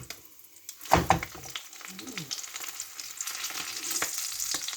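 Frying egg sizzling in a pan, seasoned with turmeric and salt, with a sharp scrape and clatter near the start as it is flipped, then steady crackling sizzle continuing alone.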